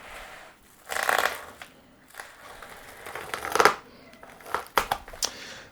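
Packaging from a sheet metal fabrication order being unpacked, with loud crinkling and crumpling in irregular bursts close by and short pauses between.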